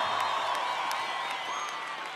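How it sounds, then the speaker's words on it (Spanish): A large festival audience at Viña del Mar cheers and applauds in a steady roar, with voices rising above dense clapping throughout. "Un aplauso para ustedes."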